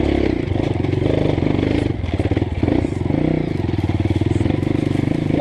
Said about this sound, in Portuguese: depois de bom tempo aí sem andar de moto, estamos fazendo trilha aqui novamente